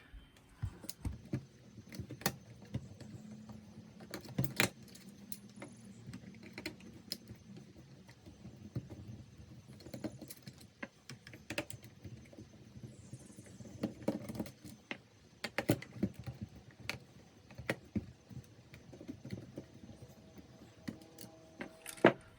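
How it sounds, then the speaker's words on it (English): Four screws come out of the back of a Volvo 240 gauge cluster, with faint scattered clicks, ticks and light tool taps spread over a quiet background. "We're going to remove these 4 screws on the back."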